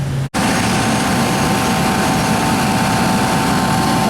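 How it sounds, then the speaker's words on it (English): Refrigeration compressor after an R408A to R407F refrigerant swap kicks on following a brief silent gap, then runs as a loud, steady mechanical drone with a tonal hum throughout, no voices. "alright, the compressor started up"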